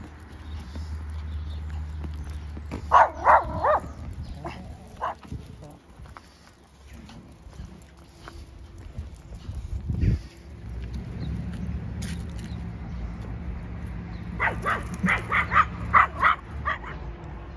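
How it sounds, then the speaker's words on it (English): A Pomeranian dog outdoors on a cold, sunny day lets out two short bursts of sharp yipping barks, the first early and the second near the end, with quieter whimpers and a low background rumble between them. "you don't need to bark everybody"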